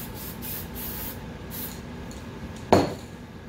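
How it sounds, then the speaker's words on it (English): October Brown Design Master spray paint hisses from a can onto a burlap scarecrow mask in several short close bursts, followed by a sharp clink near the end. "I have some October Brown Design Master spray paint and some glossy wood tone"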